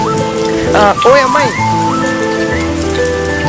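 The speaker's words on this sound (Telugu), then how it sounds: "ఈ వర్షం ఏంది ఇప్పుడే పడాలా?" Rain falls steadily throughout, a continuous patter beneath a voice calling out and drawn-out melodic tones.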